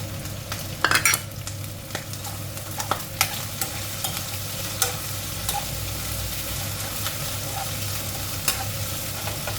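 Chinese kale stems stir-fry in a hot wok, giving a loud continuous sizzle with frequent scraping and clinking of a spatula stirring throughout.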